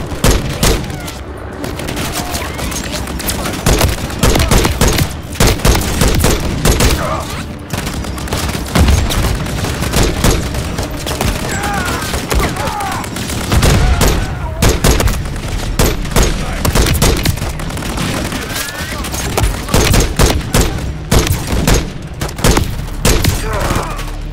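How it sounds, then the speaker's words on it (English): Sustained gunfire from the Call of Duty: Modern Warfare 3 campaign, with dense bursts and booming shots rolling on continuously for the whole stretch, loud and close, under a busy battle din with occasional voices. "Keep laying down fire."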